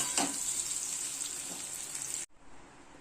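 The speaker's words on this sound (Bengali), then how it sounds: "আমি কচুগুলো একটুখানি লাল লাল করে ভেজে নেব।" Taro pieces sizzle and crackle steadily in hot oil for a couple of seconds, then the sound cuts off abruptly into near silence.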